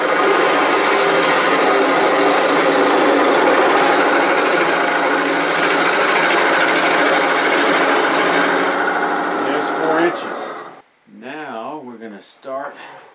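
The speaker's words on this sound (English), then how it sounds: "Drill a depth hole." A loud, steady power drill whirs continuously into a wood turning blank, drilling a depth hole for about ten seconds, then winds down into a few short bursts.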